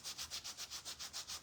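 Sanding a small craft piece from a gingerbread-themed mug DIY kit, about nine quick back-and-forth rubbing strokes in a steady rhythm, faint and close.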